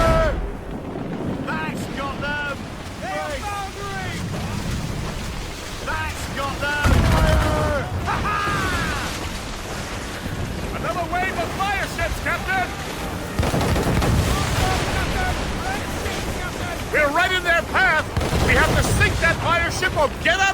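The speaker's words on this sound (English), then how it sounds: "They're firing mortars!" Warships trade mortar and cannon fire in an Assassin's Creed Rogue naval battle. Heavy booms land amid a constant rush of wind and sea, while crew voices shout over the fighting throughout.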